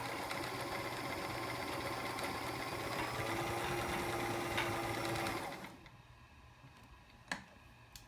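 A vintage Sears Kenmore 158.14300 heavy-duty sewing machine stitches in a steady, continuous whirring run for about five seconds, then stops, leaving a quiet room with a single faint click.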